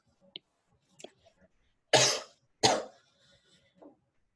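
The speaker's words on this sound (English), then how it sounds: "I'm coughing." One person gives two sharp, loud coughs in a quiet room, with a few faint clicks and small throat sounds before and after them.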